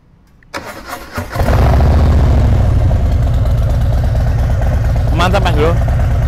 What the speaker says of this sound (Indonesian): Jadi mantap ya suara knalpotnya.